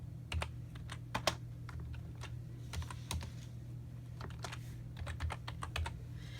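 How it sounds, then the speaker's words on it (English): Rapid, irregular clatter of keystrokes on a computer keyboard while a name is entered into staff records software, close and fairly quiet, with a steady low hum underneath. "you start typing in their name."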